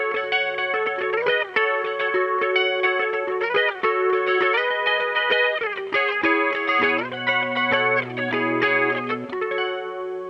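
An effects-laden electric guitar plays the repeating verse riff of a song, with bright chorus-tinged plucked notes, steady rhythm and occasional lower sustained tones, and no talk.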